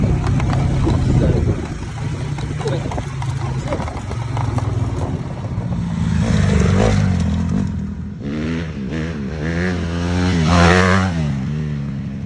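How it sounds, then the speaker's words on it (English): A dirt bike doing wheelies on a riverfront motocross track revs and roars loudly, engine pitch rising and falling in repeated surges, with a voice talking over the noise. "right here with Noah, he's just doing a couple wheelies off the tracks"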